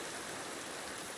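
Steady, even hiss of rain in the video game Minecraft, a continuous soft wash of noise with no distinct drops or other sounds.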